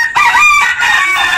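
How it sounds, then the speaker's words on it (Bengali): A chicken crowing close and loud, a short strained call with a tonal middle and a rough, raspy ending. "এই যে এক ধরনের মুরগি,"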